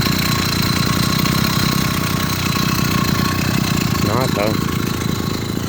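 An 80cc two-stroke engine on a motorized beach cruiser bicycle idles loud and close with a rough, uneven chugging that threatens to stall, while someone speaks briefly over it.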